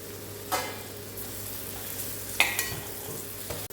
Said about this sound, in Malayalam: ഇതിലേക്ക് ഒരു സവാള കുനുകുനാന്നരിഞ്ഞ് ഒരു പച്ചമുളക് ഒരു കഷ്ണം ഇഞ്ചി ചേർത്ത് ഒന്ന് വഴറ്റിയെടുക്കാം